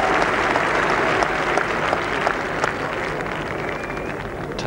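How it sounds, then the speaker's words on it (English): Steady applause from a large cricket crowd at the 1981 Ashes, dense clapping that stays fairly loud and gradually eases over a few seconds. "Touch of relief in the applause there."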